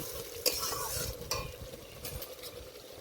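Spices going into jackfruit and prawn curry frying in a pan, with a spoon stirring and scraping through a constant sizzle and a couple of sharp clinks against the metal.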